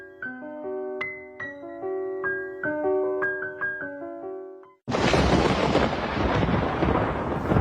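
Thunder rumbles and cracks loudly as rain sets in on a cloudy day, after an opening stretch of musical tones.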